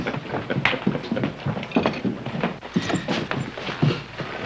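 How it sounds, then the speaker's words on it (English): Horses' hooves clip-clop steadily on hard ground, a rhythmic stream of close hoofbeats with no talking. "Are the horses ready? Saddled them all myself, Paul."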